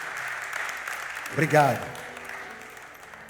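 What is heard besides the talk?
congregation applauding in church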